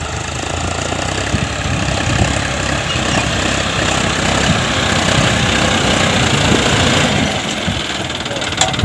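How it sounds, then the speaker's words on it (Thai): A John Deere 5050D tractor works a rice field with a steady, rough, knocking diesel drone held close and loud, while someone talks over the engine. "วันนี้พามาดูรถไถนานะครับจอห์นเดียร์ครับ"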